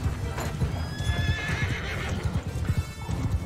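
Horses in the Mount & Blade 2: Bannerlord video game: rapid clip-clop of hooves on the move, with two drawn-out neighs rising above them mid-clip.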